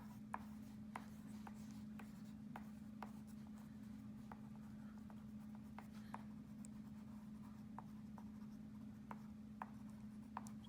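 A blue crayon colours on paper in wavy strokes, producing soft continuous scratchy drawing with repeated light taps as it lifts and touches down, quiet and close over a low steady hum.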